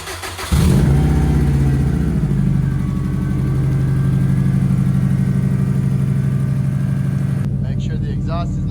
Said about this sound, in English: We're gonna try to start it up right now and see.